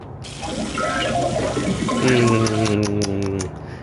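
Max Payne sipping water in the video game Max Payne: a near, wet pouring and gurgling liquid sound that builds and swells, with a voice speaking over it.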